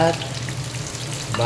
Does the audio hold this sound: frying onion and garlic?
yes